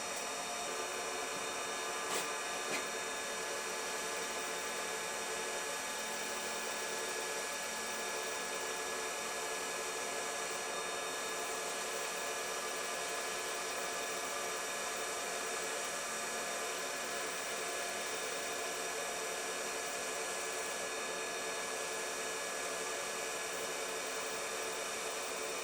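A wood lathe turns a wooden pen blank at about 1,000 RPM, giving a steady, fairly quiet whirring hum with no speech, unchanging throughout.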